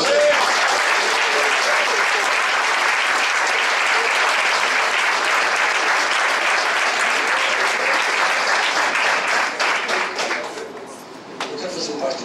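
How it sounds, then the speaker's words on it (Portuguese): Church congregation applauding together, a full steady wash of clapping that holds for about ten seconds before thinning out and tapering off at the end. "Pode aplaudir o Senhor Jesus."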